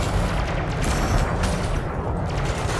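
Multi-cannon fire aboard a ship in Elite Dangerous, a dense, loud stream of rapid booming shots with sharp bursts and heavy low rumble throughout.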